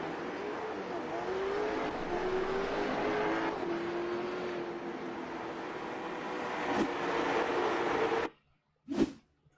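Late model race cars battle side by side mid-pack on a dirt oval at a season opener, a steady loud engine roar with a rising pitch line, then a sudden drop to near silence and a brief burst near the end.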